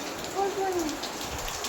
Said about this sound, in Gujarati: બહાર વરસાદ ફૂલ ચાલુ છે.